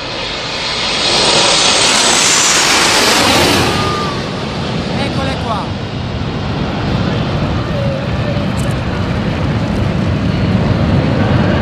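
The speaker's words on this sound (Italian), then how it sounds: "Eccole che arrivano le frecce tricolori." The Frecce Tricolori aerobatic jets sweep over Taranto with a loud, continuous roar that swells and then holds as a broad, rushing drone, while a voice talks underneath.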